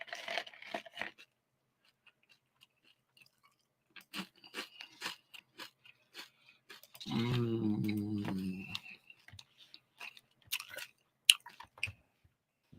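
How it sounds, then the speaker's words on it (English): Close, loud crunching of Mini-Wheats cereal being chewed in a dense burst of about one and a half seconds, with scattered quieter mouth and handling noises before and after. "I'm eating on some mini wheat. Excuse my crunching."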